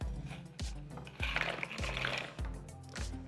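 Pasta drops into a pot of boiling salted water seasoned with chicken bouillon, a quiet bubbling and splashing with several soft plops spaced about half a second apart, close by and with no voices.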